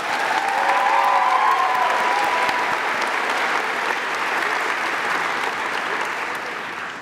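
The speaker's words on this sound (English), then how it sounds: "Let's give the big round of applause to all of our faculty in appreciation." Sustained applause from the audience at a December 2021 Azusa Pacific nursing pinning ceremony, honoring the nursing faculty; dense, steady clapping fills the room throughout and tapers slightly at the end.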